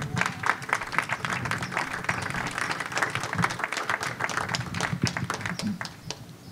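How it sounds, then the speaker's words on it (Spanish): Audience applause at a Spanish-language book presentation and talk, steady dense clapping from a room of listeners that holds evenly loud throughout and eases slightly at the very end. "Bueno, un aplauso."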